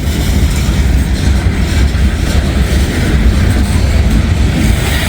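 A CSX freight train rolls past at close range, a loud continuous rumble of wheels and cars with a faint clickety-clack running throughout.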